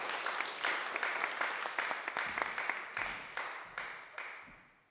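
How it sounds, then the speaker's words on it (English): An audience at a festival launch claps for a poet, a modest crowd applauding steadily at moderate volume with distinct individual claps, gradually thinning and fading toward silence. "round of applause for Abbie."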